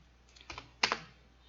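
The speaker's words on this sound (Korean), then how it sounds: "오늘따라 진짜 타이핑이 되게 귀찮네." A few quiet keystrokes on a computer keyboard come in two short bursts during CAD drafting of a gearbox shaft part, close and soft against a faint room hum.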